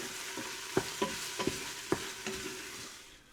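Seasonings stirred into beef and lentil soup in an Instant Pot, with a steady sizzle and five or six distinct spoon knocks against the pot in a loose rhythm, fading slightly toward the end.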